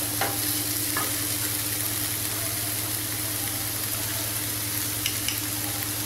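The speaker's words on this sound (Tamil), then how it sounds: "அது வத்துற வரைக்கும் நம்ம நல்லா வந்து கிண்டணும்." Mushroom masala for biryani sizzling in a pan while being stirred, a steady low frying hiss with occasional light scrapes of the spoon, over a constant background hum; no speech.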